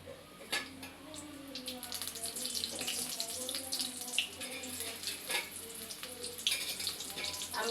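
Chili-stuffed chicken rolls dropped into hot oil crackle and bubble in a steady close sizzle, with a few sharp pops and clinks of utensils, while someone talks quietly over it.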